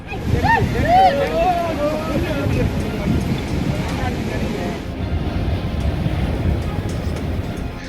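Rough sea at Kanyakumari sends waves crashing against the shore and house walls, a constant loud roar with gusty wind buffeting the microphone; a voice speaks briefly at the start.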